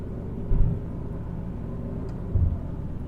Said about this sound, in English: It's not really letting rip in this car, it's just gently acquiring a little more pace than one had before.